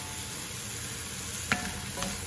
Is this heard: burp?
no